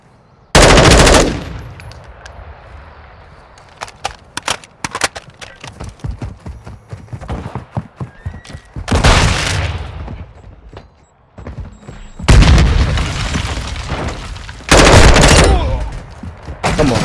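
Bursts of M4 assault rifle fire in Call of Duty: Modern Warfare II during a Search and Destroy match, loud sharp volleys separated by scattered single shots and quieter game sounds.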